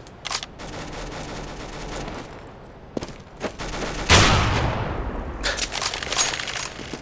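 Gunfire in the video game Counter-Strike: Global Offensive comes as loud, sharp shots and rapid bursts, with a big blast near the middle, mixed with game ambience and no talk.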